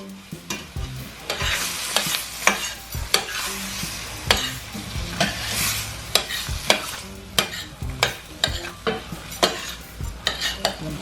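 Shrimp, red peppers and onions being stirred in a hot pan, with a steady sizzle broken by frequent sharp scrapes and clinks of the utensil against the pan, close and fairly loud, no talking.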